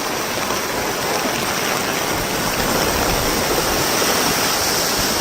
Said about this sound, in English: Every effort was overtaken by yet another surge of water pushing through overwhelmed drains.